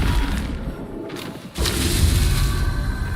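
A Flipendo spell blast in Hogwarts Legacy lands as a loud booming burst with a brief dip, then a sustained rumbling roar that fills the rest of the moment.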